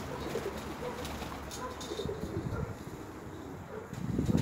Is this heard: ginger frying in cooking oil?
no